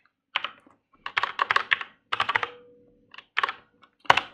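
Someone types on a computer keyboard in short bursts of rapid clicking keystrokes, close and clear, separated by brief pauses, with no voices.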